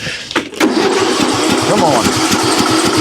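A John Deere LA105 riding mower that only runs on choke cranks and catches, its engine rumbling into a steady, loud idle with rhythmic pulses while a man mutters briefly over it.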